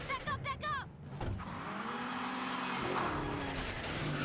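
A sports car in the Ben 10 Alien Force video game drives hard, its engine droning steadily and loud through most of the stretch after a brief burst of game effects and voices at the start.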